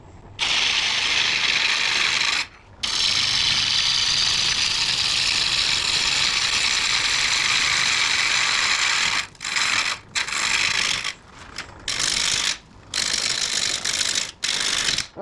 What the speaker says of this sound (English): I'm just probably due for a sharpening, and I'm going to go do that right now